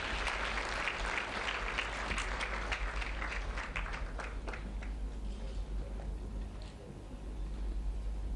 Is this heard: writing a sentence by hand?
no